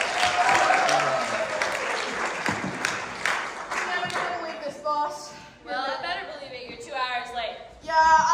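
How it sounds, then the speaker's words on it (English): An improv show audience gives a burst of clapping that fades out, after which a performer starts talking over the last scattered claps. "Let's give her some more applause to fill the space."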